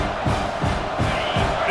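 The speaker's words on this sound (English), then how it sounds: "This crowd trying to make life miserable for this offense." Football stadium crowd roaring and yelling to rattle the offense, a loud, dense wall of cheering with rhythmic swells.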